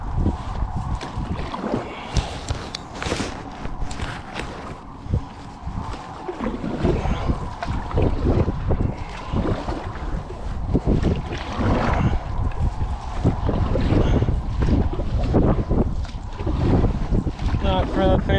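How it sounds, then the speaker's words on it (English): Strong wind buffets a canoe paddled hard against the wind and current out in open country, roaring across the microphone in loud, continuous gusts with splashes and knocks throughout. "Gotta paddle hard to beat the wind."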